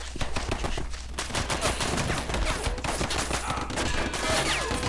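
Heavy machine gun fire in the war video game Red Tide, with dense sustained bursts of automatic gunfire crackling loudly and continuously throughout, overlapping shots forming a steady battlefield roar with no voices.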